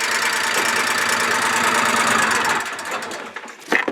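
A small two-cylinder engine in a 2004 Polaris Ranger running with a steady, buzzy drone that drops off near the end, followed by a few short knocks and sputters.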